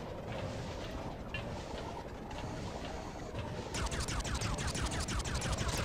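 A gunner turret firing in Lego Legends of Chima, faint steady bursts that turn into a rapid, louder stream of repeated shots toward the end, with no talking.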